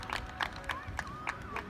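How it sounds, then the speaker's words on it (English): Spectators at a women's Australian rules football match between Killarney Vale and Port Stephens clap after a goal, sparse, scattered outdoor claps in a loose rhythm, moderately distant, under a voice speaking over the top. "Bit of applause from the spectators"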